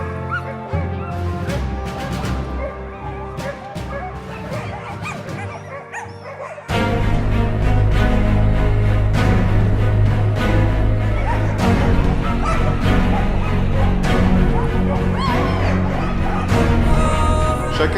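A team of twelve sled dogs barks, yips and whimpers excitedly in a forest before a dog-kart run, a continuous noisy chorus that grows louder and denser partway through, with some voices mixed in.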